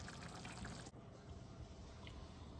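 Water poured from a cup into a pot of Jamaican-style curry chicken, a steady splashing pour that cuts off abruptly, leaving a quieter simmering bubble with a faint drip afterward.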